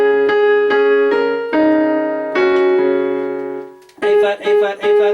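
A piano plays a melodic line from a song, with clear separate notes and chords struck in a steady rhythm, ending in a few quicker repeated chords, loud and close with no talking.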